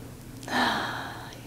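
Audible breath from a person holding yoga warrior two pose, a single soft exhale that swells and fades over about a second, close and quiet against a low steady hum.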